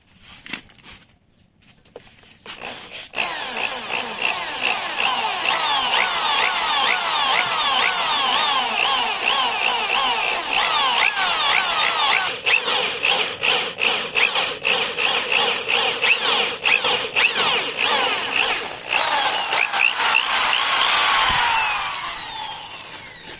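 A power drill driving bolts on a dual shock conversion kit, a loud whirring whine that starts after a few seconds and holds steady for most of the time, with some rattling, then cuts off at the end.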